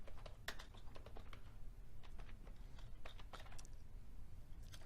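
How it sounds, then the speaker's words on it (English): Quiet, steady typing on a computer keyboard as a text label is entered, a close run of light irregular key clicks with no talking. "I'll type in maintenance"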